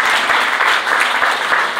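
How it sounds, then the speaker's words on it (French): Dense applause from a church congregation fills the space, steady and loud throughout with no talk over it. "on applaudit"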